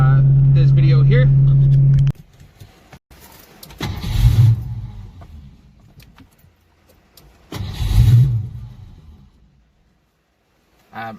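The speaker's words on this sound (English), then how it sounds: "there was an issue with the car starting" A Ford Foxbody Mustang with a starting fault tries to crank: a steady loud hum for two seconds, then two separate grinding, whirring start attempts that fade out without catching, heard close with no talk.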